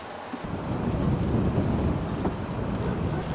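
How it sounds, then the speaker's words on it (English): Strong wind during a spring storm on a riverbank buffets the microphone with a continuous low rumbling roar, loud and close, with no talking. "It's really windy out."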